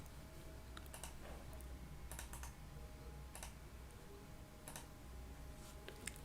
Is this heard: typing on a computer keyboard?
yes